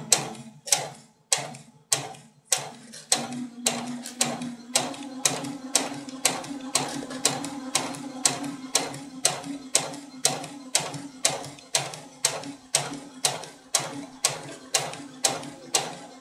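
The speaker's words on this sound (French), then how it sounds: "vous allez voir que notre ourlet va se coudre vraiment de manière simple" A sewing machine stitches a curved fabric hem in a steady rapid run of mechanical clacks after a few slow starting strokes, with a continuous motor hum underneath, close and even throughout.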